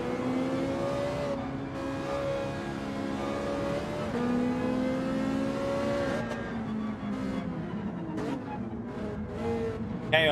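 Ferrari race car in Gran Turismo 7 pulling away from a race start, a steady, loud engine drone that climbs in pitch through the gears, with other cars roaring close around it.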